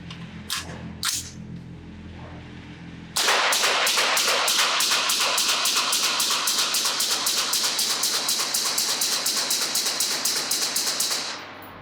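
Rapid string of suppressed 5.56 rifle shots through a B&T SRBS762Ti titanium suppressor at an outdoor range, sharp evenly spaced cracks after a brief quiet lead-in, loud and close.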